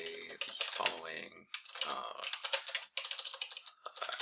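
Fingers type on a computer keyboard in quick bursts of close, crisp clicks separated by short pauses, with no other sounds around them.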